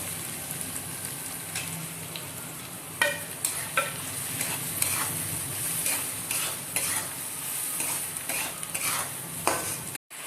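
Spice masala for dal tarka is stirred and fried in a pan, a steady sizzle punctuated by repeated scraping and clinking strokes of a spoon against the metal.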